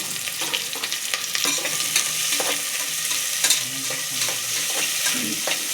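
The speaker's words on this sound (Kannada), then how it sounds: "ಈರುಳ್ಳಿಯನ್ನು ಚೆನ್ನಾಗಿ ರೋಸ್ಟ್ ಮಾಡಿದ" Chopped onions fry in a pan for chicken fry, a steady close sizzle broken by repeated scraping clicks of a spoon stirring them throughout, with no talking.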